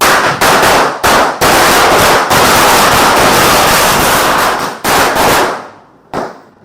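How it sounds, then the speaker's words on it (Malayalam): Firecrackers burst in a dense, loud crackling barrage during a festival celebration, with a few brief gaps before the rapid popping trails off into a last isolated bang. "കവട്ട എഡ്വിൻ പടക്കം പൊട്ടിച്ചിരിക്കുകയാണ്"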